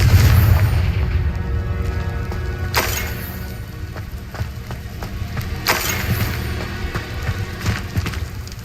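A Confringo fire-blast spell from the Hogwarts Legacy video game detonates in sharp booming bursts over a steady rumbling game soundscape, with further distinct blasts following across the stretch.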